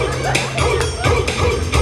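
Dogs barking in a comedy sketch, several short yips and barks in quick succession, close and loud, mixed with shuffling.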